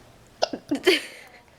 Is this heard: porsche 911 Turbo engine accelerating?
no